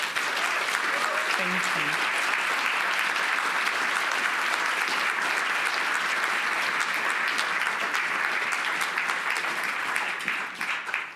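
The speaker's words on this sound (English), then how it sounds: "Can you all give this lovely panel a round of applause?" Sustained audience applause for a panel discussion on Black history landmarks, dense and steady from start to finish and fading slightly at the very end, with a brief voice speaking near the start.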